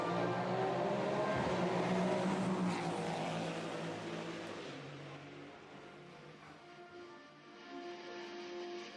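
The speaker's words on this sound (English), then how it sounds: "It was a Maserati going past." A Maserati GT4 race car passes at Misano during a GT4 European Series race. Its engine roars loudly at first, then the tone falls and fades as it moves away before rising slightly again, with no voices.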